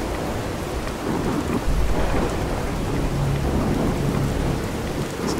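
Thunderstorm weather in the video game Fallout 4, with steady heavy rain hissing throughout and low rolling thunder rumbling underneath, loudest around the middle, with no voices.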